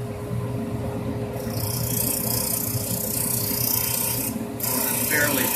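A Supermax 19-38 drum sander takes a very light pass over a wood board, giving a steady mechanical whir with a rasping, gritty rub that rises when the stock is fed through and falls back briefly before resuming.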